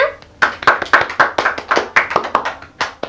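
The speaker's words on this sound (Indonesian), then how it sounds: "Kelompok 1 beri aplaus untuk temennya." Classmates clap for a peer after a microteaching presentation on cell biology in a classroom, a quick burst of sharp hand claps with overlapping strikes that fade toward the end.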